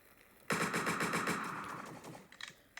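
A rapid, loud burst of automatic gunfire from a saw blade weapon in the video game Entry Point starts abruptly and rattles for about two seconds, trailing off into a few scattered faint shots.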